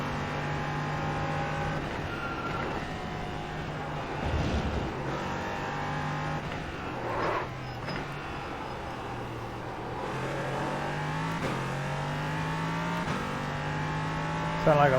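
Sim-racing game race car on track, engine droning and shifting pitch with brief tire squeal bursts as the front brakes lock up, moderate level beneath occasional talk.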